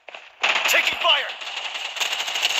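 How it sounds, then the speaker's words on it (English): Rapid automatic gunfire in the battle royale video game Bloodstrike, a dense rattling burst of shots close up that continues steadily, with a game voice line briefly sounding over it. "Taking fire."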